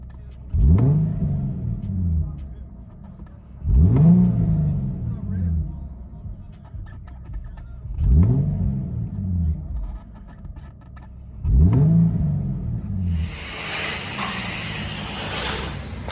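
An Infiniti G37 3.7L V6 with dual exhaust and resonator delete revs hard four times in a row from inside the cabin, each surge rising and falling back to idle, ending in a rushing hiss.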